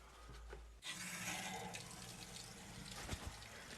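Water rushing through plumbing after a backflow preventer valve on a 50 kW heat pump installation is reopened, a sudden steady hiss and gush of flow starting partway in and continuing close and fairly loud.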